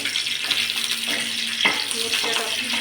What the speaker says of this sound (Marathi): मिरच्या टाकून छान भाजून घेऊया.